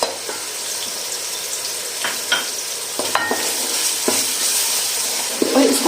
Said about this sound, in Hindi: और इसको अच्छे से मैं भून लूँगी।